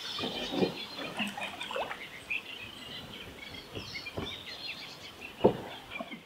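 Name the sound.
birdsong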